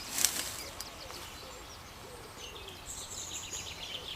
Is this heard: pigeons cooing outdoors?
yes